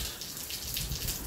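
Torrential rain falling, a soft, steady patter of drops on surfaces, faint and close, with no voices.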